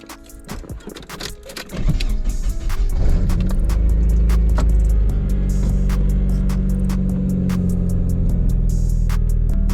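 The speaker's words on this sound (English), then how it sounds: "to time the car has to be warm, so Eddie's gonna start it right now" After a few clicks and rustles, a Nissan 240SX (S13) engine starts and settles into a loud, steady idle with a deep continuous rumble and occasional ticks.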